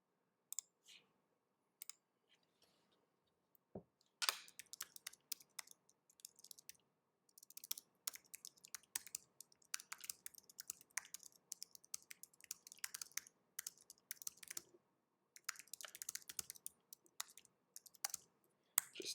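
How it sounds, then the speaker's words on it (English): Rapid clicking of keys on a computer keyboard, irregular bursts of typing with brief pauses, close and fairly quiet in an otherwise silent room. "Just typing away here."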